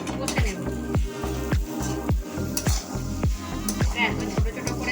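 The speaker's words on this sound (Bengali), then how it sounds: "এরপর আমি ভালোভাবে এটা কষে নেব।" Pointed gourd (potol) stir-fried in a pan crackles with a continuous sizzle under a strong repeating low hum whose regular swooping pulses run throughout, while spatula scrapes and stirs sound close by.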